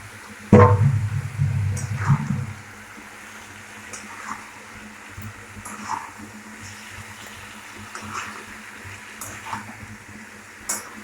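Raw jackfruit and potato pieces dropped into hot oil and masala, a loud burst of sizzling at the start that settles into a quieter steady frying hiss with occasional light clinks.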